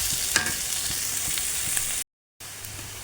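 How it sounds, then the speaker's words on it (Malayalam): Onions sizzle steadily in a hot pan while being sautéed for chicken perattu, a close, even crackle with light stirring, cut by a brief gap of silence near the end. "സവാളയൊക്കെ നല്ലപോലെ വഴന്ന് വരണം കേട്ടോ, നല്ലപോലെ വഴന്ന് വരണം."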